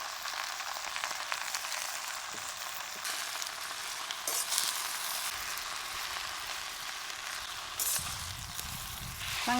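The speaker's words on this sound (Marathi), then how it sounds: "भाजी चांगली तेलामध्ये परतून घेतली." Chandan batwa greens sautéing in hot oil in a kadhai, a continuous close sizzle and crackle with occasional stirring clatters, steady throughout and free of talk.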